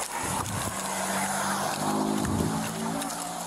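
Cars passing on a road beside a police traffic stop, a broad roadside rush of engine and tire noise swelling and fading as vehicles go by, fairly loud and continuous with voices faintly present.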